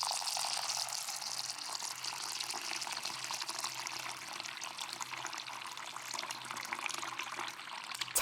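Cold water pours over buckwheat in a bowl to soak, a steady, gentle splashing stream heard up close and fairly quiet.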